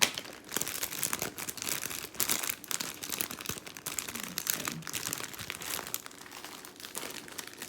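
A brand-new plastic bag is handled for a DIY sensory bottle, crinkling and crackling continuously and close by in irregular rustling bursts.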